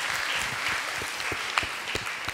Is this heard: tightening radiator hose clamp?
no